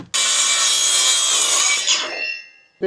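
Wooden pieces being hand-sawn, one continuous loud rasping stroke up close that tapers off, ending with a brief knock.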